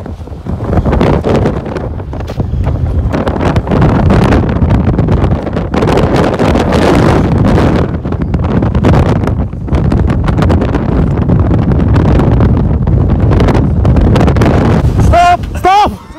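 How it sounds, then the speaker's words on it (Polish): Strong gusty wind buffets the microphone on a snowy road to Nordkapp, a loud continuous roar with rising and falling blasts, and people talk in between the gusts. "Przecież tak nie wieje nawet w Karpaczu."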